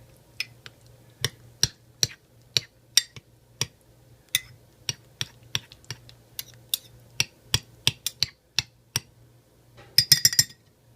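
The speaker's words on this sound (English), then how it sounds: "And give it a good stir." A spoon stirring risotto in a hot mug after microwaving, giving a steady series of sharp clinks against the ceramic, ending in a quick flurry of rapid taps, with no one speaking.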